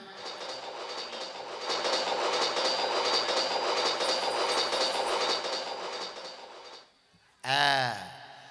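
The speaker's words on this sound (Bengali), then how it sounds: "ওই তো ট্রেনটা ঢুকেছে" Recorded train sound effect used in a comic puppet show: a loud steady rumble and clatter of rail cars rolling in, fading out near the end before a brief rising squeal, with no talk over it.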